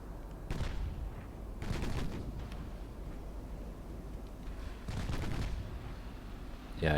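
Naval shellfire in Ultimate Admiral Dreadnoughts during a British 1900 campaign, with incendiary HE shells: four muffled, fairly faint booming salvos spaced a second or more apart, with no talk.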